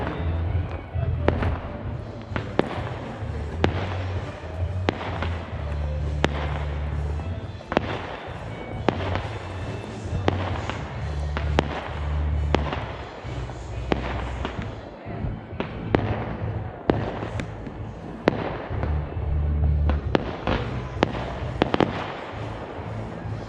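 Fireworks burst at night over an outdoor bus event, with repeated sharp bangs and crackles in steady succession, some close and loud, others distant. Low rumbling and crowd noise run beneath the explosions throughout.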